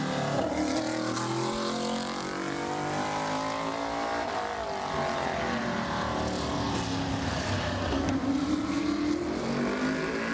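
A modified race car laps Bowman Gray Stadium in qualifying, its engine a loud, steady roar with rising and falling pitch as it comes through the turns, heard up close and continuously with no talk.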